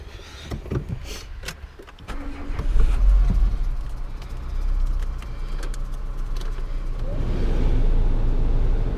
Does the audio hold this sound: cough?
no